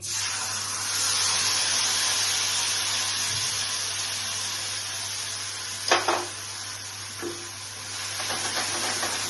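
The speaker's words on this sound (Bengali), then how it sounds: "তাহলে এভাবে তেলে দিয়ে দিয়েছি সাদা জিরা। এখন আমি কাজু বাদাম পেস্টটা দিচ্ছি।" Cashew paste goes into hot oil with white cumin for a paneer curry and sizzles steadily. A couple of sharp stirring clatters break through the sizzle partway along, and no one speaks.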